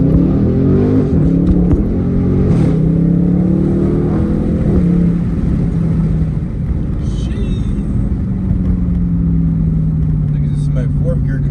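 A widebody Dodge Scat Pack accelerates hard in the rain, its loud engine climbing through the revs with a gear change partway, heard from inside the car as a steady, powerful roar.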